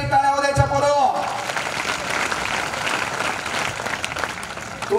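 After a voice on the mic, a large crowd of students bursts into loud, sustained clapping for their teachers at a career guidance talk, a dense wash that continues to the end.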